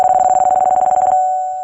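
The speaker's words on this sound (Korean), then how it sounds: "서주성의 여포에게 한 통의 전화가 걸려온다." Telephone ring tone for an incoming call in a Korean radio drama of the Three Kingdoms: a steady tone pulsing in rapid even beats for about a second, then a sustained tone that fades out, with no voices.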